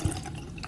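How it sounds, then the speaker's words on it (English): Tap water runs briefly over a kitchen knife being rinsed after sharpening, a short trickling splash with a small burst at the start. "After sharpening, rinse the knife with water."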